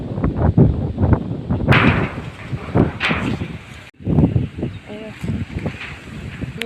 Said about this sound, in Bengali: চলুন কেমন বাইরে ভীষণ ভীষণ পরিমাণে ঝোড়ো হাওয়া দিচ্ছে